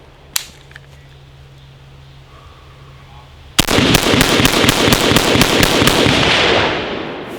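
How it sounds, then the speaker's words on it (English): A rifle fitted with a Manticore NightBrake muzzle brake fires in a rapid string of about a dozen loud, sharp cracks, the shots ringing close together after a quiet pause. "I'm just going to try to shoot this thing as fast as I can so you can see how flat it will stay"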